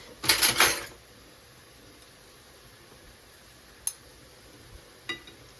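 A brief cluster of bright clinks from a knife against dishes at a kitchen table over a Swiss chard dish, followed by quiet room tone and two faint, isolated taps.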